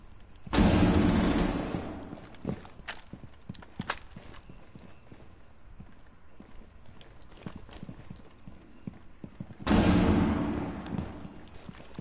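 Two loud flashbang grenade blasts in a video game, each a sudden broadband bang that fades over about a second, separated by a stretch of quieter clicks and scattered clattering in between.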